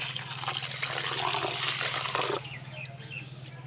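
Water gushes into a container over basmati rice set to soak for pitha, a close, full pour for a couple of seconds that cuts off into quieter trickling.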